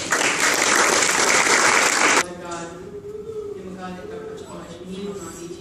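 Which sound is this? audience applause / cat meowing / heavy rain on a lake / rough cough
audience applause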